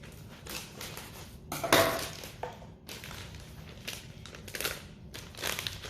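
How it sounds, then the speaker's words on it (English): A knife slices open a plastic-wrapped package of ground meat in a home kitchen, giving short crinkling, tearing bursts with a sharper crackle near the middle, close and moderately quiet against faint background clatter. "So let me get a knife, cut this open."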